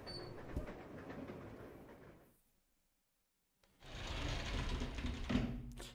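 A moving train in Resident Evil Zero gives a steady low rumble and rattle that drops away to near silence for about a second and a half, then returns just as strongly, with no voices.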